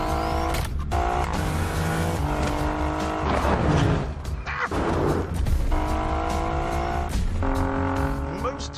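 An Alfa Romeo Giulia Quadrifoglio's twin-turbo 2.9 V6 revs hard and loud, climbing and dropping through several bursts with tyre noise, with someone talking at times.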